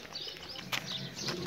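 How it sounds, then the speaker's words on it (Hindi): Soft pigeon cooing and faint bird chirps outdoors, gentle and a little distant, with no one speaking. "कबूतर अपने खा रहे दाणा"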